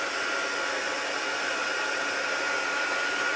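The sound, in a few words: heat embossing tool blowing hot air on gold embossing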